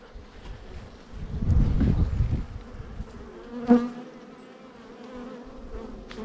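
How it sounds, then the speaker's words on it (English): Honeybees inside a hive hum in a low, steady drone that swells for a moment, with a brief knock partway through. "There's some bees in here."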